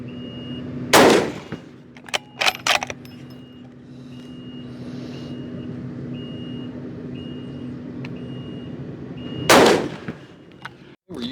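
Two loud, close rifle shots from a .450 Bushmaster scout rifle at an outdoor range, several seconds apart, with a few sharper clicks and knocks of handling between them over a steady background hum.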